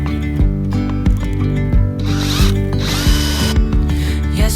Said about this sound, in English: So I'm going to pre-drill and pre-screw all of these boards